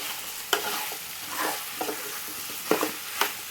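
Chopped onions frying in a pan for potato kurma get stirred, with a soft sizzle running underneath and several sharp scraping knocks of the spoon against the pan at irregular intervals.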